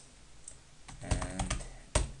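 A password being typed on a computer keyboard: a short burst of several quick, close key clicks, ending with one harder keystroke.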